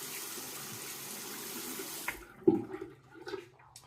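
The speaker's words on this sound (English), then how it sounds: "And I'm gonna rinse this." Running tap water streams steadily as a cartridge razor is rinsed, then cuts off about halfway, leaving a few close clicks and taps of handling.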